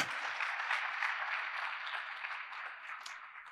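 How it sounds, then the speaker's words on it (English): Quiet, steady applause from a student audience at an academic seminar, a soft continuous patter of many hands that gradually thins out toward the end. "Thank you for the applause."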